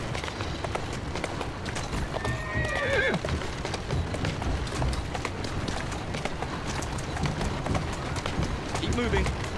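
Steady hoof clip-clops of a horse walking in Assassin's Creed Syndicate, with an occasional whinny and a voice talking over the hooves.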